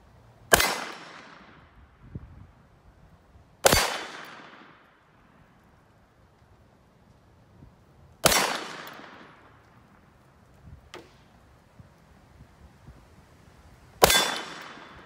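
Four loud, sharp 9mm shots from a $500 MP40 clone at an outdoor range, spaced several seconds apart with quiet gaps and fading echoes between them.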